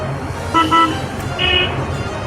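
A short two-tone motorbike horn honks twice in quick succession, then a higher horn sounds once, over steady road traffic and engine rumble at Baliapal market.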